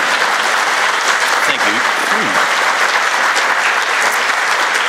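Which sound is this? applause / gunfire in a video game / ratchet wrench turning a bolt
applause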